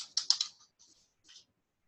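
Keys tapping on a computer keyboard as a password is entered: a quick burst of close, light clicks, then two softer isolated taps after short pauses.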